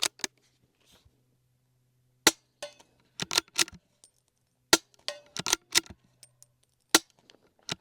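Sharp, quiet cracks from an integrally suppressed Ronin Arms 9mm bolt-action rifle, spaced irregularly across the stretch, some paired with faint metallic rings or clinks from rounds striking steel targets and a big rock.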